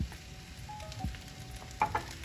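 Shrimp fried rice with sesame oil being stirred in a pan: a soft, quiet sizzle punctuated by a few sharp scrapes and knocks of a utensil against the pan, no voices.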